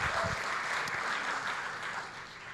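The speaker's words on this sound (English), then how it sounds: "Can we have another round of applause for Zainab, please?" Brief crowd applause at a Redmi Note 11 Series smartphone launch event, a steady wash of clapping from many hands that eases slightly toward the end.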